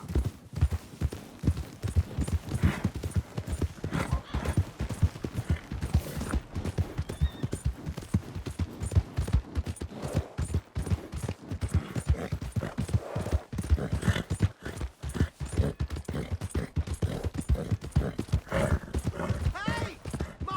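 Steady, rapid clip-clop of horse hooves galloping close by in the video game Red Dead Redemption 2, with occasional voices and faint whinnying mixed in.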